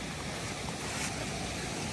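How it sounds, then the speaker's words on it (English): A wide, deep creek in Yosemite rushes steadily at close range, a dense continuous roar of flowing water with a windy hiss and no talking. "Currently looking for a way across this creek because it's actually much wider than I thought, and it's much deeper than I thought too."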